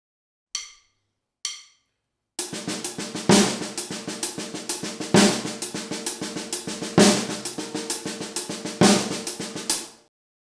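Two short drum hits, then a full kit locks into a loping half-time shuffle: swung hi-hat and ghost notes with a heavy snare backbeat, played alone.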